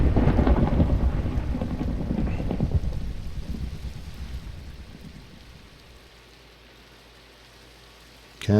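Minecraft Tektopia thunderstorm: rain hisses steadily with a heavy rolling rumble of thunder at the start that fades over several seconds, leaving quieter rain before a sudden loud burst at the end.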